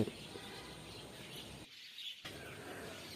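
Birds gather and call outdoors in the morning just before feeding, a steady wash of mixed chirps and tweets that drops out briefly midway and then resumes, moderately distant.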